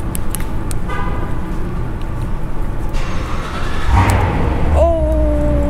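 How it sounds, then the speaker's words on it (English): A remote-started convertible car engine turns over and settles into a low idle rumble, with a short horn-like tone near the end amid background noise. "I'm gonna remote start the car. See what it sounds."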